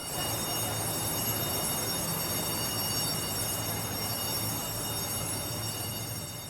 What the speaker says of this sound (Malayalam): പുണ്യനഗരിയിലെ മെട്രോ ട്രെയിൻ